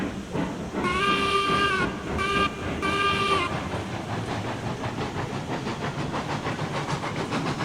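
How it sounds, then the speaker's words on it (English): A steam locomotive whistle in Railroads Online gives three loud, close blasts of a harmonic tone. Rhythmic chuffing and hissing steam follow, building into a steady beat as the engine moves. "Pulled the whistle instead of the regulator that time."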